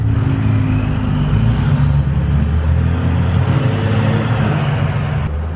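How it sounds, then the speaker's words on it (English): Loud, noisy trucks passing on a nearby road, a heavy continuous engine rumble and roar that fills the whole stretch, close and steady, with no one talking. "there won't be literally really loud noisy trucks"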